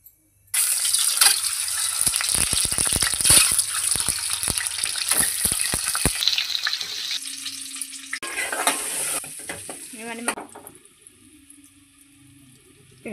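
Oil sizzles and spits loudly in a cooking pot, with crackling bursts and stirring noises, then settles into a softer hiss.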